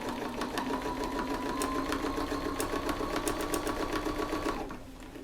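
A sewing machine stitches in the ditch along a quilt seam, running in a steady rapid patter for several seconds before stopping near the end.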